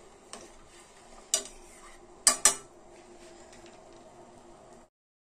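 Sesame seeds roasting in a pan are stirred with a metal spoon, producing a faint steady scraping broken by a few sharp clinks against the pan.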